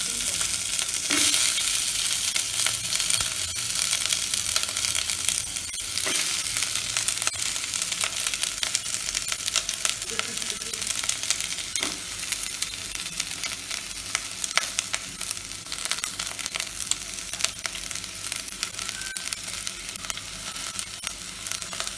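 Vegetables fry steadily in hot ghee with bay leaves for pulao, a continuous close sizzle with occasional stirring scrapes and clinks throughout, no voices.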